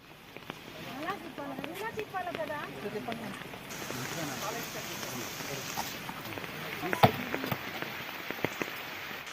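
Heavy rain falls steadily on a rural village area with no road, a dense continuous hiss throughout, while people talk over it.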